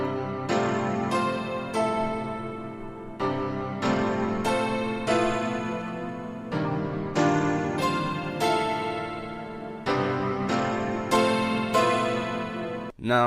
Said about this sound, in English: I kind of just layered that with like other pianos